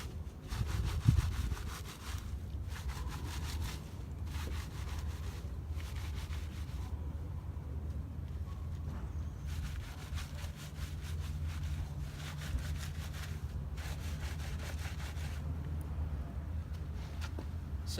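A tire and rim scrubbed with cleaners, heard as repeated rough brushing strokes close up over a low steady rumble of background noise.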